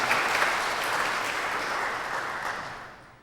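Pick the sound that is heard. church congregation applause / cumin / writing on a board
church congregation applause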